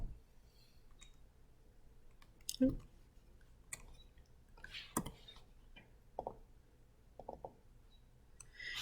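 A computer mouse clicks softly in a quiet room while Excel is in use, with a few scattered, sharp clicks spread over several seconds and faint background rustle between them.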